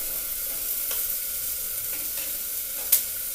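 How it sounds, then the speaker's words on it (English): Onion and tomatoes fry in a pan with a steady, soft sizzle as they are stirred, with faint scraping and one sharp clink near the end. "fried onion and tomatoes. And basically I'm just going to mix them up here."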